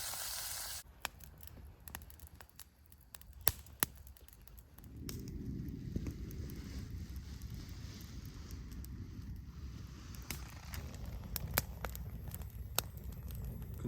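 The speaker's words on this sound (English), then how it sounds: "That's steam." Venison steaks cooking in metal mess tins at a forest wild camp give off a steady sizzling hiss that swells from about five seconds in and carries on, loud and close, with no talking.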